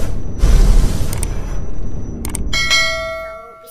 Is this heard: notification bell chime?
yes